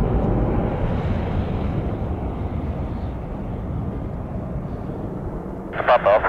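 A Canadian North Boeing 737-200 jet takes off from runway 20 at Edmonton, a steady broad engine roar with wind buffeting that holds throughout, ending with a brief burst of radio-like chatter.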